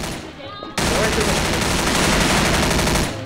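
Rapid automatic gunfire in Garry's Mod DarkRP erupts suddenly and continues in a dense, loud burst for a few seconds.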